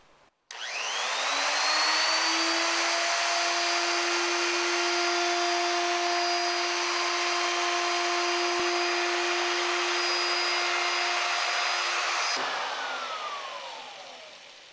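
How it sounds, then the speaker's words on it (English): A plunge router whines at a steady high pitch as it spins up and cuts a pass through a wooden board, loud and continuous for about twelve seconds before the motor is switched off and winds down. "go ahead, turn on the router and make your pass"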